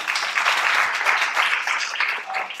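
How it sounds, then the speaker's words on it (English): An audience applauds at a premiere show in Dubai: dense, steady clapping from many hands fills the space for the whole stretch, close and loud, with no talk over it. "a big round of applause for you guys"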